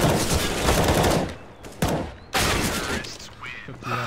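Rapid bursts of gunfire in Counter-Strike, dense volleys filling the first stretch and then breaking into separate sharp bursts with short gaps between them, close and loud, with players talking over the action.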